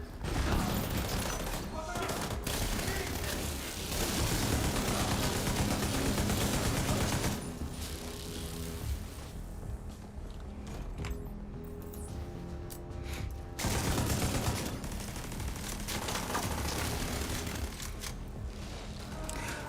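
Sustained turret gunfire from The Division 2 video game, a dense rattling barrage running through most of the stretch with a brief lull in the middle, loud and close, mixed with game effects and occasional speech.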